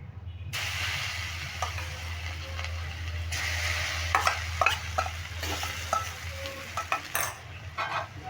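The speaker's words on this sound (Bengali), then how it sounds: "এবার ডালটা দিয়ে তেলে আমি ভালো করে নাড়তে থাকবো দেখো এইভাবে নাড়াচাড়া করে একটু ভেজে নেব" Chana dal stirred and fried in hot oil crackles with a steady sizzle over a low hum, while a spoon scrapes and clicks against the pan in an uneven rhythm, no talk.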